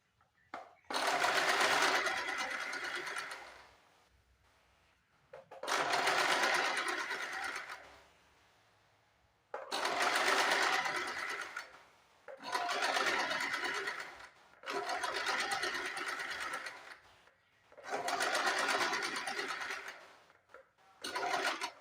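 An electric sewing machine stitches fabric in six separate bursts of fast, buzzing whirring, each a few seconds long with short quiet pauses between, close and loud with no talk.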